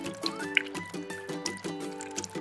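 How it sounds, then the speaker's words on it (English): Water drips and trickles out of toy cups with small holes in the bottom. The splashing is soft and close, with a few louder drops and a faint musical tone underneath. "See how the water's pouring out?"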